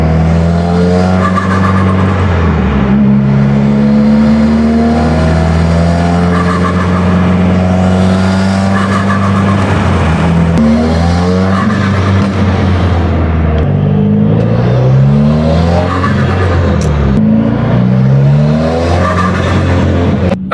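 Turbocharged car engine fitted with a billet turbo inlet, revving loud and close with rising and falling harmonic tones and repeated turbo flutter on throttle lift, continuous throughout with no talk.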